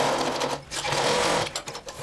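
A sewing machine stitches a blouse with a pleat in loud, close whirring runs, pausing briefly twice between bursts, with no speech.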